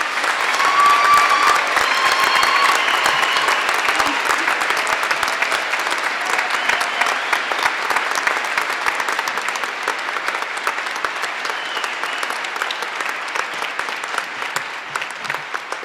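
Sustained applause from a large crowd at a winter commencement ceremony rolls on evenly for about sixteen seconds, dense and loud, fading slightly toward the end.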